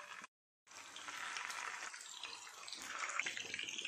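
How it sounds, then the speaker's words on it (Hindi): Mutton koftas slide into hot oil in a pan and fry with a continuous hissing sizzle that starts after a brief gap and grows slightly louder, close and steady, with no voices. "तेल गरम हो चुका है, धीरे से कोफ्ते डालते जाइए।"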